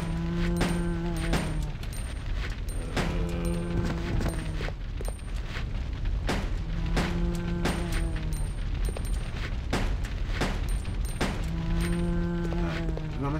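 Repeated gunfire in the Resident Evil: Code Veronica X video game, sharp shots in rhythmic clusters every couple of seconds, loud and close, layered with low tonal groans and game sound effects.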